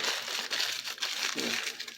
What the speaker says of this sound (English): All I'll simply do is take another piece of paper.